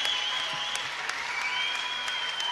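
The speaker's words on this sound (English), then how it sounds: "massive round of applause." Crowd applause fills a boxing match venue after a bout, steady clapping from many hands at moderate loudness with a few sharper claps standing out, no voices over it.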